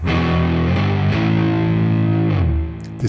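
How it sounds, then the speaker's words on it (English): A heavily distorted electric guitar on near-maximum distortion and neck pickup plays a short, thick minor blues riff, loud and close, with sustained gritty chords shifting in pitch. "really crazy retro blues rock or minor blues guitar sound"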